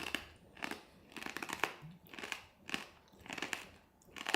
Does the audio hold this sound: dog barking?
no